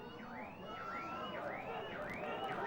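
A car alarm wails faintly near a rugby league stadium, its rising and falling electronic tone cycling about five times, under crowd ambience and match commentary.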